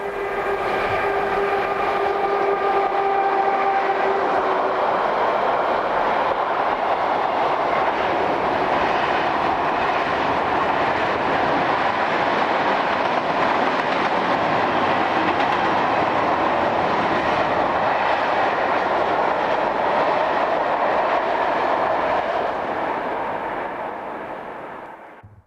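A Belgian 100-ton diesel locomotive of a class introduced in 1953, rated around 2,500 horsepower, hauls a train past with steady loud rumble and clatter of wagons, a horn-like tone near the start, fading away at the end.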